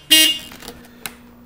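Weak stock horn on a Suzuki Marauder VZ800 motorcycle gives a short, thin, moderately loud honk, followed by a fainter second tap about a second later.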